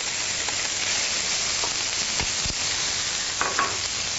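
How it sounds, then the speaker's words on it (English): Chorizo and vegetables sizzle steadily in a hot oiled pan, a dense continuous frying hiss with a few brief stirring clatters and pops near the end, close and alone without talk. "Ooh, that's sizzling."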